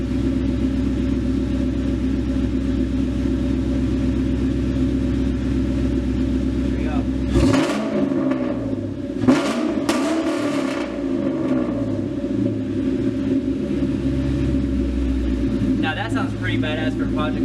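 Modified exhaust on a 1999-2004 Ford Mustang idles with a deep, loud rumble, then the engine is blipped in a couple of quick revs that surge and fall back before settling into idle again; voices talk faintly underneath.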